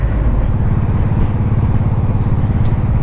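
A 1984 Honda Shadow 700 VT700C motorcycle on the road, its engine a loud, steady low rumble throughout, close up with no voices.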